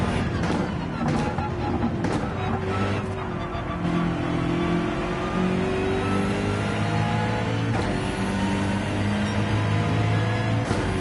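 A race car in Gran Turismo 7 lapping Watkins Glen, its engine droning steadily and loudly with rising and falling revs through shifts, continuous and close throughout.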